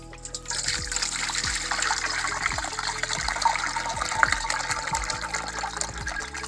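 Homemade cherry wine, steeped with spring water, is poured steadily from one vessel into a three-litre glass jar, a continuous close trickling and splashing stream with small gurgles and no talk.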